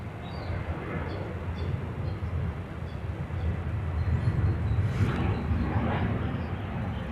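A Southwest Boeing 737-800 airliner at Dallas Love Field gives a steady, moderately distant jet engine roar that swells slightly midway.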